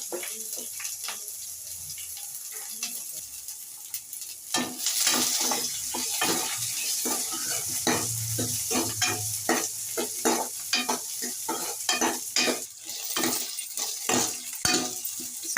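Chopped onion sizzles and fries in a pan with cumin and curry leaves, while a spoon scrapes and stirs it in repeated close clinks and rustles over a steady frying hiss.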